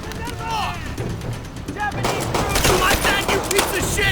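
Rapid gunfire bursts in the World War II shooter Call of Duty: World at War, loud and continuous with layered shots and battle noise, growing denser midway through.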